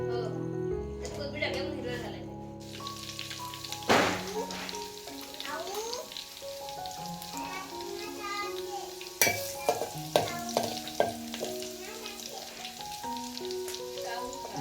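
Spices with garlic, coriander powder and turmeric sizzle in a hot pan on a wood-fired stove beneath steady talking, with occasional stirring clinks and scrapes close by.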